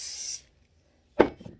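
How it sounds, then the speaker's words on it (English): Butter spray from an aerosol can hisses onto a baking pan in one short, close burst, followed after a pause by a brief clatter of the can or pan. "Where's my good butter spray?"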